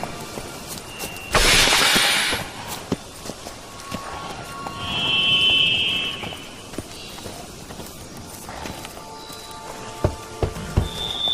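Horse hooves clip-clop on the ground in The Witcher 3 game, a sparse trot of quiet steps with a brief whoosh and a short whinny-like tone, under ambient game sound.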